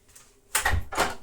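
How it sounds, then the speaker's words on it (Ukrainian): A home door is opened with a couple of loud, close scraping and knocking bursts, with no voices. "Іду відкривати двері."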